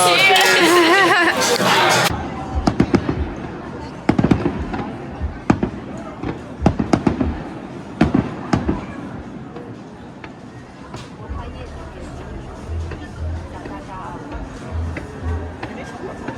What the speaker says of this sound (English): It is Chinese New Year tonight, so we've just watched the fireworks.